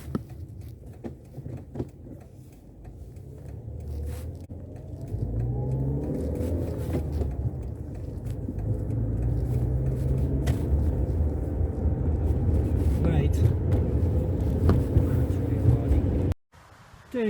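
Car driving around a lakeside road, a steady low engine and road rumble that builds louder and holds near, with faint talk underneath before cutting off at the end.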